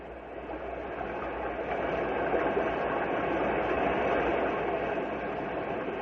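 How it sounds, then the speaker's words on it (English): A swollen river rushing with spring thaw water from snow-covered mountains, a steady, loud, continuous broadband roar that holds level throughout with no voices. "This is the sound of a swollen river."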